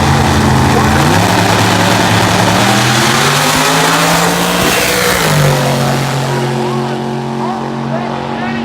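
A bracket drag racing car at a supercharged event at MIR, a loud engine roaring and shifting through gears as it accelerates down the track, pitch climbing then dropping at each shift, with an announcer talking over it.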